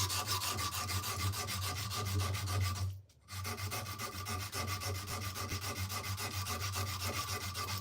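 A tough handle material is sanded at close range, giving a steady, continuous abrasive rubbing with a brief pause midway, loud and alone without any voices.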